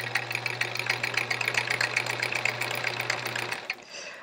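A sewing machine runs in one steady, continuous burst of stitching with a short stitch length, sewing a paper-pieced quilt block, loud and close with no talking, then stops just before the end.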